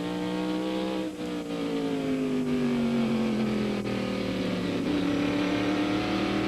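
NASCAR Modified Tour race cars at Martinsville Speedway in 1999, a loud, continuous engine roar with revving pitch sliding downward as the pack runs close, no voices over it.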